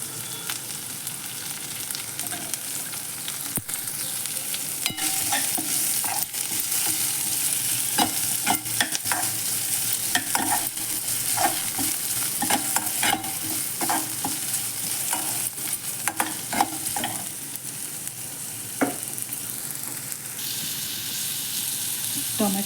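Carrots frying in a spoon each of ghee and oil for dal khichdi, a steady close sizzle with frequent scraping stirs and spoon taps throughout, no talk.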